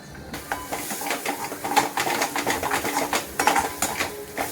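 Spice masala is stir-fried in an iron kadai until the oil separates, giving a close, rhythmic scrape and clatter of a spatula against metal over a soft frying hiss.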